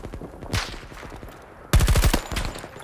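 Gunfire in Battlefield 2042, a short automatic burst followed by a louder, denser rapid-fire burst close up, with echoing tails and no talk.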